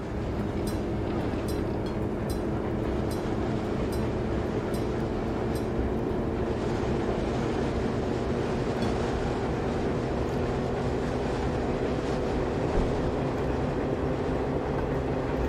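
A train in Train Simulator, running under trolley wires in California, speeds up with a steady loud rumble and low engine drone, with faint rhythmic clicks early on and no voices.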